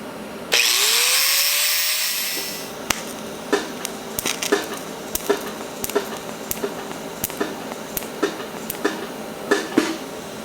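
A power tool grinds weld penetration off a washer at the end of metal tubing for a vintage dragster fuel tank: a loud, brief high whir that spins down over about two seconds, followed by scattered sharp clicks and taps.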